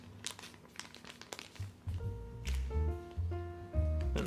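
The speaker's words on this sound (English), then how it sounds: "Be sliding this corner inside the model, forming that mountain fold." Soft paper crinkling and sliding as a corner is tucked inside a traditional Chinese origami vase, close and quiet, with scattered rustles, while faint tonal notes play underneath.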